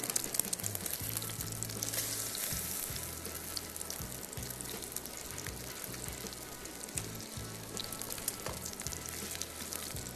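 Fish pan-frying over moderate heat after being turned, a steady broadband sizzle running the whole time with a low rumbling hum beneath, no voices.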